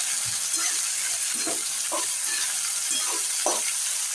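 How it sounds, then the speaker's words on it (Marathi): Peas being stirred into cauliflower in a hot pan, a continuous sizzling hiss with soft scraping and shuffling strokes every half second or so, close and even. "ते वटाने टाकू आपण हे आले आपले वटाने छान मिक्स करून घेऊ आपण"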